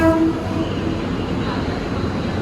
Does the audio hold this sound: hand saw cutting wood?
no